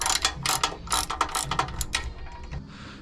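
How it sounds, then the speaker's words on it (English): Ratchet wrench tightening the U-bolts on a Brunswick bowling pinsetter's control box: a close, loud run of rapid metallic clicking in several quick bursts over three seconds, with no talking. "We're gonna go ahead and tighten up our U-bolts for our control box."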